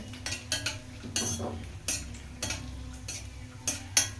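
Ingredients roasting in a pan on a stove, with repeated scraping and clinking strokes of a spatula every half second or so over a low, steady sizzle.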